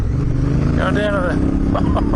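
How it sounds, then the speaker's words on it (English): A big adventure motorcycle on an outback dirt track, engine droning steadily with pitch swings as it shifts down quickly through the gears, loud and close with wind and rumble throughout. "I was going down through the gears so fast I chucked it into neutral."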